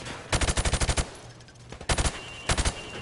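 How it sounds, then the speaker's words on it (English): Rapid automatic gunfire in Call of Duty, rounds punching through plywood at targets: a long burst of about ten shots, then two shorter bursts after a brief pause, loud and close. "I want you to shoot the targets through the wood."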